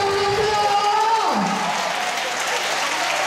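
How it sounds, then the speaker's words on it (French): A rally crowd gives sustained applause for a speaker, broad clapping that runs on under a voice fading out early. "a eu droit à des applaudissements bien nourris"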